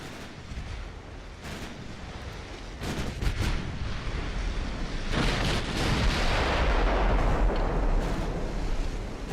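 Heavy battleship guns fire in a naval battle game, the shots merging into a dense, rumbling roar of booming blasts that builds louder over several seconds, with no voices.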